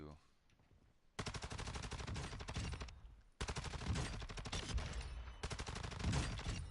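Long bursts of automatic rifle fire from a high fire rate weapon in the Call of Duty DMZ game mode, loud and rapid, coming in three sustained strings separated by brief pauses.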